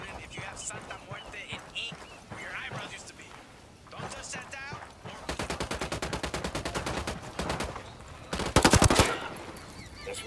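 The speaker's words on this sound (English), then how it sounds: "Opening fire!" Automatic gunfire in the open-world shooter Ghost Recon Wildlands, a rapid burst of rounds followed later by a second louder volley, with someone speaking over the game beforehand.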